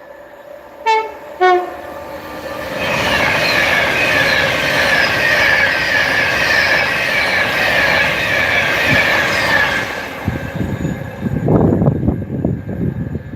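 A passing Avanti-liveried train on the West Coast Main Line north of Crewe gives two short two-tone horn toots, then rolls past in a long loud roar with wheel squeal before fading to rattling clatter.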